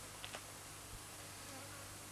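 Honey bees buzzing around beehives in a Sarthe village in 1989, a faint steady insect drone with a few brief louder passes close by, no voices.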